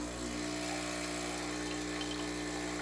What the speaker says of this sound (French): Vous appuyez pour lancer votre shot et vous tournez ici le bouton pour faire sortir de l'eau